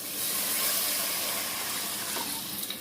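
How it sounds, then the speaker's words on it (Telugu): Water pours into a hot pot of biryani masala for a vegetable biryani, giving a loud, steady steaming hiss and rush of water close by. "వాటర్ పోసేసుకుందాం."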